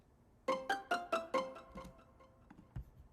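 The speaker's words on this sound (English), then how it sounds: "This is the pizzicato strings from Purity." Pizzicato strings from the Purity plugin pluck a short melodic pattern of five quick, evenly spaced notes, then a few softer trailing plucks and a low thud, with a light delay tail.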